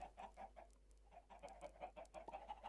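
Chickens in Minecraft cluck repeatedly in short, uneven bursts at moderate volume, with several birds overlapping throughout and no talk.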